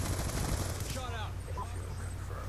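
Rapid automatic gunfire in the Black Ops 2 multiplayer video game rattles continuously in a dense barrage, with a brief voice heard partway through.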